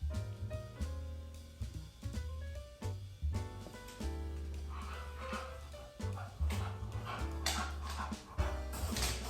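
Close, quiet panting from a pet dog runs in a steady, uneven rhythm through a low background hum, with soft rustles now and then.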